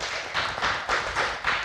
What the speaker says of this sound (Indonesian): Teman-teman semua boleh kita kasih tepuk tangan sekali lagi